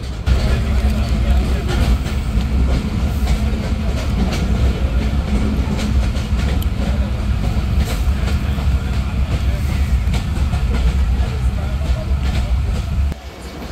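Titumir Express with a new white rake running into Panchbibi railway station, with a loud, continuous rolling rumble and rhythmic clickety-clack of wheels over rail joints heard from inside the coach, steady throughout before a slight drop at the end.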